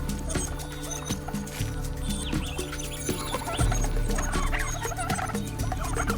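Brush turkeys calling in the wild, repeated gobbling clucks and grunts in an irregular series, moderately close, over a busy outdoor background with no talking.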